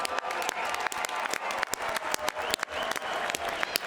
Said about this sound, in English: How about a round of applause for both these brave warriors tonight?